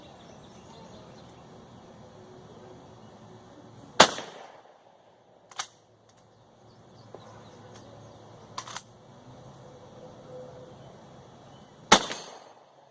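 Two loud, sharp rifle cracks from a Colt Lightning slide action rifle in 32-20 WCF, fired about eight seconds apart outdoors, with quieter mechanical clacks of the slide action between them.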